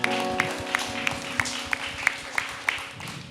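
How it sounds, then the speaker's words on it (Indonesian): Slow, evenly spaced claps, about three per second, ring out sharply over a steady background hum at a live talk show, sounding like only one or a few people clapping. "tepuk tangan dulu dong untuk gue"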